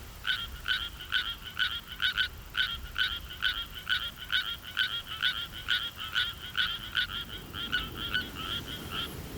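A Suwon tree frog calls from atop a rice seedling in a flooded paddy, giving a steady series of rapid, evenly spaced croaking pulses, close and clear over faint background, with no voices.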